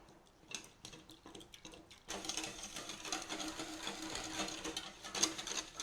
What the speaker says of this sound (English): all we do is whisk that up to dissolve all that corn flour